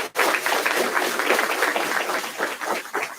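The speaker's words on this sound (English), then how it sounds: "I also want to give a round of applause, if you guys don't mind sharing this, with our facilities and our operations division" An audience at a grand opening and ribbon-cutting ceremony breaks into a round of applause for a facilities and operations division, dense steady clapping that fills the room from start to finish with little or no talk over it.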